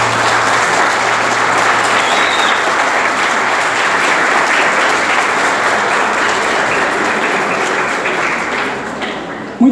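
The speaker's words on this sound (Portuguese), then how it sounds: "Isso vale uma salva de palmas para ele." Wedding guests applaud at a civil ceremony, just after the couple is declared married: dense, steady clapping from a full room, loud and sustained for about ten seconds, fading slightly before a sharp sound at the end.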